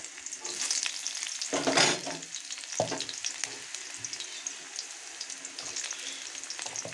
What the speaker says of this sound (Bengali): এবার আমি কেটে রাখা পেঁয়াজ দিয়ে দেব।